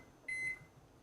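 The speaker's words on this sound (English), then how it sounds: "Let's turn on the microwave." A microwave oven switches on with a single short electronic beep, clear and close, followed by a faint low hum in an otherwise quiet room.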